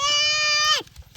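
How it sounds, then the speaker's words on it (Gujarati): A buffalo on a farm gives one short, loud, bleating call that stops abruptly, with quiet background rustle afterward. "ભેંસ. ભેંસ છે ઈ."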